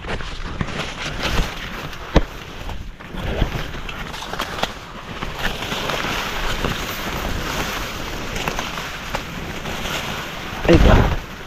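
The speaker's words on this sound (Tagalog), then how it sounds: "hangin yan hangin" Wind blows across an open cornfield, a steady gusty rush with buffeting on the microphone and a few brief knocks.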